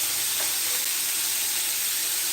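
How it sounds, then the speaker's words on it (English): Cranberry sauce simmers in a pan with a steady, close hiss and soft bubbling sizzle that continues without a break. "that sauce is done. It came to a simmer"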